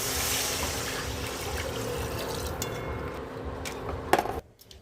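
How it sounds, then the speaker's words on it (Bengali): Hot water pouring steadily into cooked masala in a pan for pakoda curry, a close gushing splash that stops abruptly at the end. "এবার আমরা দেব গরম জল।"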